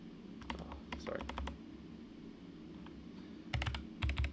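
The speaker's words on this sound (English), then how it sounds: "And so I'll type that in." Typing on a computer keyboard while joining a Windows PC to a domain: close, quick clusters of light key clicks in short bursts with pauses between, ending in a couple of firmer presses, alone without talk.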